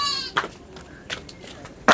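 Faint, brief bleating from a goat opens the clip, then scattered clicks and bumps over a steady outdoor background.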